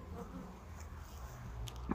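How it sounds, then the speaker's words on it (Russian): Honeybees in a winter beehive in December, with frames of sealed honey and bees hanging below, give a faint, steady, continuous buzz with no talk. "Пчелы снизу висели."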